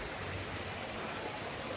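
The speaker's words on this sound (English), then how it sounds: "Alright, so I reach the river." Steady, close broadband rush of river water flowing in the Jamaican countryside, a continuous even wash with no talk.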